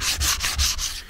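A small triangular detail sander works over the hull of a 54 ft sailboat, a close, steady abrasive rasp pulsing in quick regular strokes as it is pushed back and forth, with no voices.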